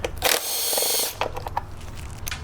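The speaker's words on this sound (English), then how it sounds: "we just gotta take the bolts off that are holding this pull starter assembly housing on" A power tool runs in a short whining burst to remove bolts from the pull starter housing of a Generac GP3000i generator, followed by clicks and clatter of parts close by.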